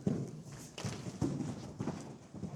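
A young horse runs loose in an indoor arena, its hoofbeats thudding in quick, uneven clusters on soft footing, fairly faint and somewhat distant.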